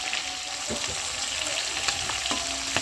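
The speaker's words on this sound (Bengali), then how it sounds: "চলো মাছটা ভাজা হয়েই গেছে" Fish fries in hot oil with a close, steady crackling sizzle and scattered sharp pops and utensil clicks over about three seconds.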